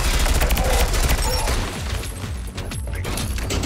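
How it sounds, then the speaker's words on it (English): SMG turrets in the tower-defense game Sentry fire in dense, rapid bursts, a loud continuous rattle of gunfire throughout that eases slightly near the end, with faint talk underneath. "the SMG started firing differently"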